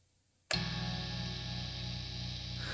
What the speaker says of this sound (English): Man, that neck pickup is noisy.